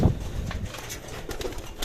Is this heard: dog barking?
no